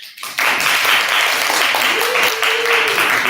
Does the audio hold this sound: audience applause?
yes